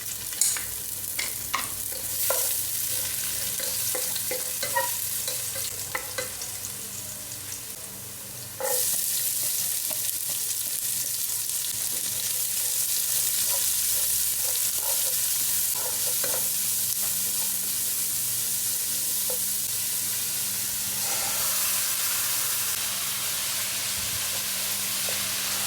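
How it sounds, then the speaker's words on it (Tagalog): Garlic sautéing in hot cooking oil for beef spaghetti, a steady close sizzle and hiss with occasional stirring scrapes and clinks, growing louder and denser partway through, no talking. "Gagamit tayo ng cooking oil panggisa. Garlic ang una natin igisa guys."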